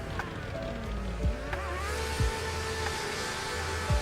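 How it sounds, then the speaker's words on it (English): Drift car engine in a racing video game, a Gravy Garage build that looks like a 280 XX, revving and falling steadily with several quick shift dips and a steady higher whine over a low background rumble. "What you guys think about the Gravy Garage car sound?"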